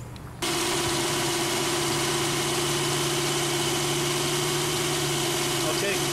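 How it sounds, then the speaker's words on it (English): An onboard air compressor runs steadily with the engine at idle, a constant droning hum with a low mechanical tone, starting abruptly near the beginning and holding at an even level throughout. "I'm just gonna go ahead and kick the compressor on at idle and see how it keeps up"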